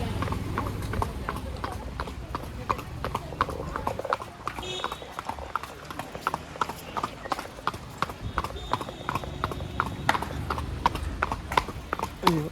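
Horse hooves clip-clop in a steady, rhythmic beat during a ride near the Kodaikanal boat house, close and clear, with voices and outdoor bustle in the background.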